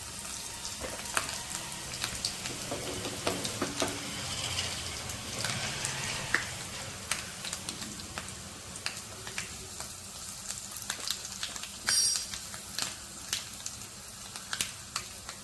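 Tempering for an idli and dosa chutney, mustard seeds and garlic in hot oil, gives a faint steady sizzle with scattered crackling pops and a brief clink, heard close with no voices.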